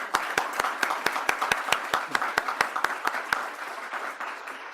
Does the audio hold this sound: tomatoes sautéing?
no